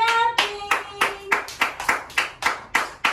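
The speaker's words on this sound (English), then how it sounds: "Clapping." About ten sharp, evenly spaced hand claps from children at a playgroup class, each a crisp slap, with a brief sung tone heard at the start.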